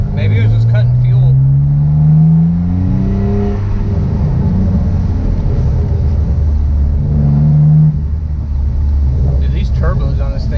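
A Mitsubishi 3000GT VR4 twin-turbo engine runs up and settles, heard from inside the car with a loud, steady drone and rising tones in the middle, someone talking over the engine throughout.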